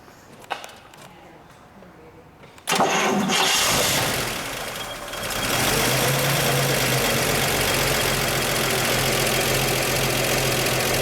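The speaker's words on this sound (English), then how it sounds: "let's start her up" A 1954 Chevrolet Corvette engine fires after a short crank and settles into a loud, steady idle with a rumbling exhaust note, close by and continuous, with a faint voice early on before the start.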